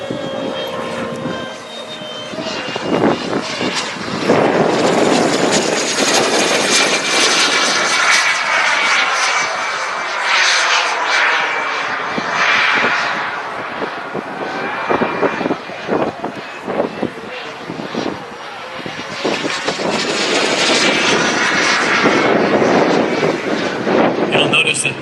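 Radio-controlled model jet aircraft flying at the SCCMAS airshow, its engine whine roaring loud and continuous as it passes, with wind buffeting and people talking over it.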